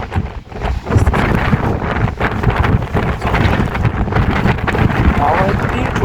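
Strong gusting wind on a hilltop at Temke Dada in Nepal buffets the microphone with a loud, steady roar that rises and falls, and someone talks over it.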